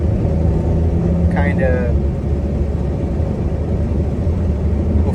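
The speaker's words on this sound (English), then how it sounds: "I'm giving people rides in my Mustang." Turbocharged Foxbody Mustang engine droning low and steady from inside the car throughout, a constant loud rumble with brief talk over it.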